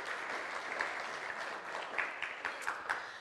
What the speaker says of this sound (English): So can we give Natalie a round of applause